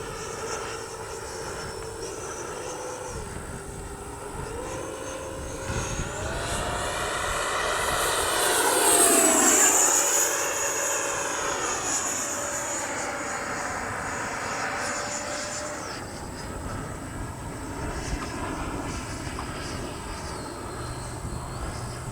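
A Freewing 90mm T-45 RC model jet passes by in flight, its turbine whine building to a loud peak with a swooping Doppler pitch shift mid-pass, then receding into a steady distant drone.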